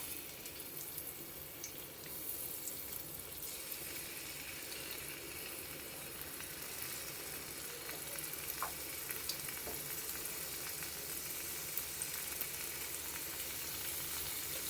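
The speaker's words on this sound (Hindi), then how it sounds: "तो उसके बाद मैं इसको तवा में फ्राई करूँगी। मैंने ऑलिव ऑयल लिया है।" Paneer fries in olive oil on a tawa, giving a steady, fairly quiet broadband sizzle that continues without pause for the whole stretch, with a few faint clicks and no talking.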